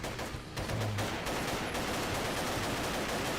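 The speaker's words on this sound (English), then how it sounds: "it's like gunshots are too loud." Rapid gunfire from the first-person shooter game Paranoia: dense, loud, rattling volleys of automatic shots that pound almost without pause, with a brief lull near the start.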